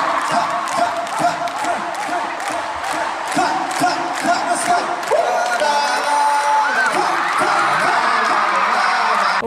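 A large concert crowd at a show in Brazil screams and cheers continuously, loud and dense, with piercing whoops over the roar and music faintly underneath.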